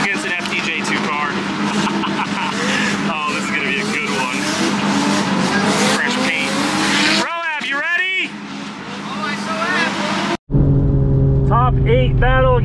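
A JZX90 and an FD drift car battle on track, engines roaring continuously at high revs with repeated tire squeals and skids, loud and close, broken by a brief drop near the end before the racing noise resumes.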